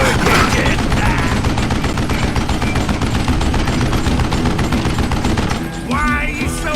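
Rapid gunfire in a Call of Juarez western shootout, a dense stream of loud cracking shots hammering almost without pause before trailing off near the end.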